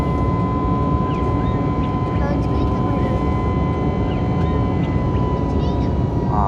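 Inside a passenger airplane cabin in level flight, a loud, constant engine roar and airflow hum fills everything, while people talk over it.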